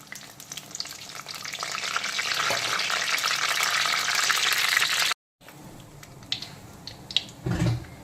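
Whole garam masala and bay leaves sizzle loudly in hot oil, a steady dense frying hiss for about five seconds, a brief cut to silence, then quieter crackling with a few stirring clatters.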